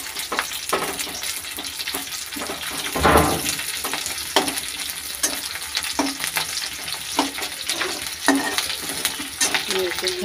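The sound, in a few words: curry leaves and onion frying in a pan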